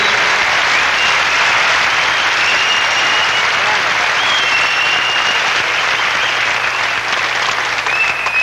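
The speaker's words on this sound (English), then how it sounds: "this is the final round of applause for the outstanding form competition." Sustained applause from a large crowd at a martial arts forms competition, steady and loud throughout with a dense wash of clapping and faint cheering underneath.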